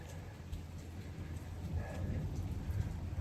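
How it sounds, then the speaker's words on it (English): Light drizzling rain falls on the Colorado Trail near a campground, a soft, faint, steady patter with low background rumble and no voices. "This rain's kind of, I guess it's just turned into a drizzle."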